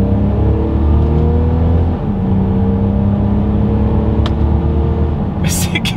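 A 2022 Mercedes-Benz GLC 300 Coupe in Sport Plus mode pulls hard from a standstill, its loud, steady engine drone shifting gear about two seconds in, with a brief sharp click near the end.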